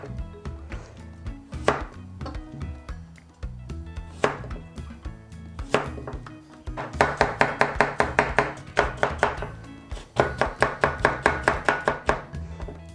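A sharp knife chops cucumber for a sea grape salad: a few scattered cuts, then fast, steady runs of crisp, close knocks on the board, with no voices.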